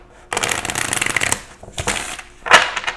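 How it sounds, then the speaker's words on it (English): Tarot cards being shuffled, one dense riffling burst of close paper flutter lasting about a second, then softer card slaps and a final sharp snap. "Let's go ahead and get a shuffle in here for you"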